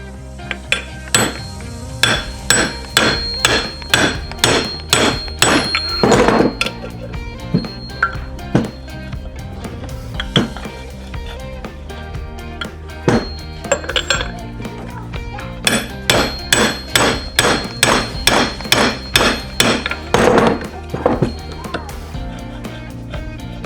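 Metal hammer tapping a socket to seat a part in a Wildcat 1000 rear differential, a long run of sharp ringing strikes in quick steady bursts, close and loud, with a short pause midway before another flurry.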